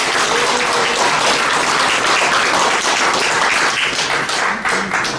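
Vigorous applause from an audience at a Korean newspaper anniversary ceremony and press award presentation, dense continuous clapping that stays loud and full for the whole stretch, with no voice over it.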